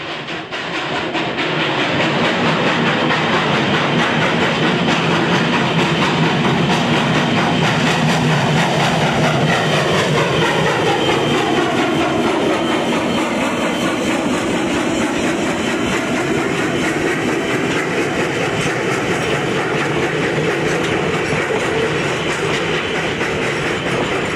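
Virginia & Truckee steam locomotive No. 29 rolls out of a tunnel, a loud, steady rumble with rhythmic clickety-clack of wheels over rail joints, sustained close by throughout with no voices.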